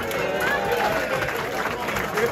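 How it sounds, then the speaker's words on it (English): A crowd at a Chester rugby club post-match gathering claps for a player: continuous clapping and cheering mixed with chatter and a speaking voice, moderately loud in a busy room. "Big round of applause for Danny"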